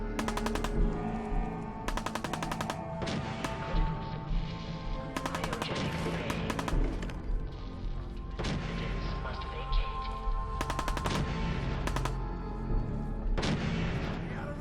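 Rapid automatic gunfire rattles in the video game Fallout 4, bursts of loud repeating shots layered over booming game sound and a constant dense mix, with a few brief pauses between volleys.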